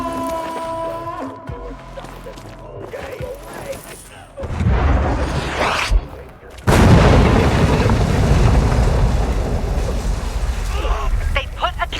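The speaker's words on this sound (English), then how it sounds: "They put a cannon on a nearby building." In the Dying Light 2 video game, a cannon mounted on a nearby building fires heavy booming blasts, with loud sustained rumbling and explosive bursts over battle noise and voices.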